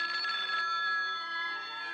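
Telephone bell ringing steadily in a home, a continuous bright electric ring held for the whole moment, close and moderately loud.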